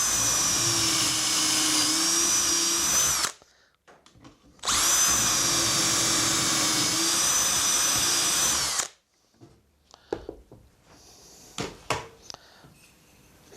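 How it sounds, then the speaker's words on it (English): A power drill bores pocket holes through a pocket hole jig into 19 mm board for a portable bench, with two long steady whining runs separated by a pause, then clicks and clattering of the jig and workpiece being handled. "You've got your holes drilled here."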